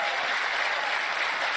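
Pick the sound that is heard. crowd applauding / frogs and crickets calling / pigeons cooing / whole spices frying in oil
crowd applauding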